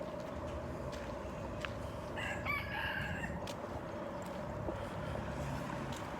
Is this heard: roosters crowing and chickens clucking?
yes